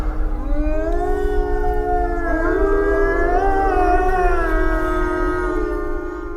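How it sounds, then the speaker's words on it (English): Several long, wavering wolfdog howls overlap in a mournful chorus at an animal sanctuary, rising and falling in pitch, sustained for several seconds over a low background hum. "That wail of a howl you hear is from one of the sanctuary's wolf dogs."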